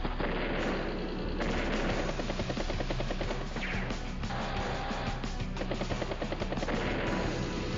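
Anti-air tank firing in Advance Wars: Days of Ruin, dense rapid machine-gun-like bursts and explosions filling the game audio, continuous and loud.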